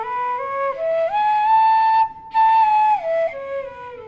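A melodic instrument plays a plain, unornamented phrase of raga Hamsadvani, holding steady pitches that step cleanly from note to note, with a short gap midway; clear and close with no voices.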